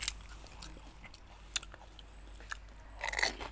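Close, crisp crunches of someone biting and chewing fuchka (pani puri) during an eating challenge, a few sharp cracks spread through the clip and a louder burst of crunching at the end.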